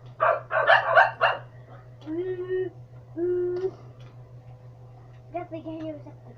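Dogs bark in a burst of several sharp yips and barks at the start, close and loud, followed by whining, whimpering vocal tones over a steady low hum.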